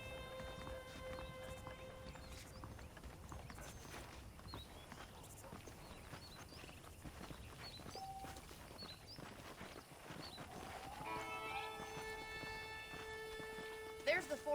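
Horse hooves clip-clop at a walking pace in the Red Dead Redemption video game, a steady muffled patter mixed with faint ambient birds and tones, with a game character talking over it.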